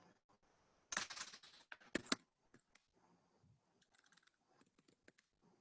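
Quiet typing on a computer keyboard, with a brief cluster of louder clacks early on and then sparse, faint key taps and clicks.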